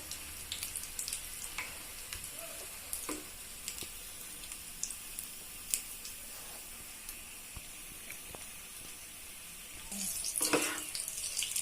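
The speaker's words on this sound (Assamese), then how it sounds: "মোৰ কেৰাহীখন সৰু কাৰণে মই চাৰিটাকে ভাজিছো" Four potato chops fry in hot oil in a small wok, giving a steady gentle sizzle with scattered crackles and a louder burst of bubbling near the end, close by and with no talking.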